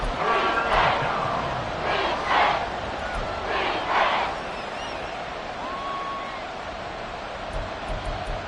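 A football stadium crowd cheers in loud swelling roars that rise and fall in several waves, then settles into a steady background murmur during a game.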